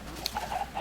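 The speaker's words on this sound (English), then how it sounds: "We've got a lot more chickens now." Chickens in the Minecraft video game give a few brief, soft clucks over steady background noise.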